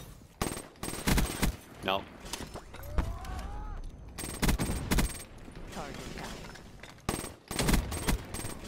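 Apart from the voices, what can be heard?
gunfire in Black Ops 3 video game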